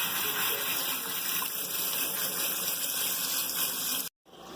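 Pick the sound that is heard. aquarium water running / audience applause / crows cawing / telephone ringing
aquarium water running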